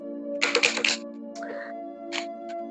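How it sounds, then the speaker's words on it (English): A deck of oracle cards being shuffled in short bursts of riffling and flicking, close and fairly loud over a steady low electrical hum, with a softer slide and a final brief flutter. "now we're gonna go over to this deck. Get this one a little shuffle."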